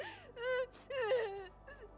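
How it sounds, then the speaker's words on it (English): A young child sobs and whimpers in Arknights: Endfield, two wavering wails with a catch of breath between, close and clear against near silence. "I think I hear a child crying."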